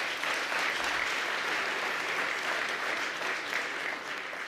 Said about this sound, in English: So a round of applause for the community as well